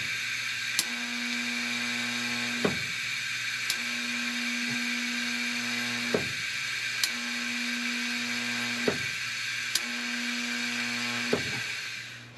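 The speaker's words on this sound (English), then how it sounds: "Gonna go ahead and put a little weld on the bottom too while I'm back here." Short welding bursts on the bottom of roll cage tubes on a Chevelle funny car cage, a buzzing hum with a repeated on-off rhythm of bursts a couple of seconds long, marked by sharp clicks and steady background hiss.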